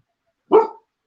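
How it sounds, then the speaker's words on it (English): A single short, sharp bark from a female dog rings out close by in an otherwise quiet room. "As soon as I put that up, your dog started barking."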